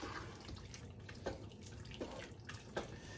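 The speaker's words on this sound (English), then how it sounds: "Now I mix it again." Cow stomach and white beans being stirred in hot water for Portuguese dobrada, making faint, wet sloshing with a few soft clinks and splashes spaced about a second apart, with no talking.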